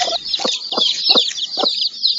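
Domestic chickens clucking close by, a run of five or six loud, evenly spaced clucks over a continuous high, scratchy squawking chatter.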